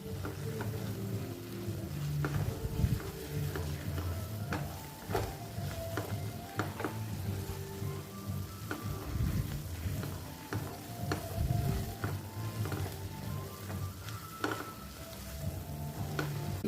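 Ground masala fries in a pan for an aubergine curry, giving a soft continuous sizzle. Scraping stirring strokes and light clinks recur steadily throughout, and no one speaks.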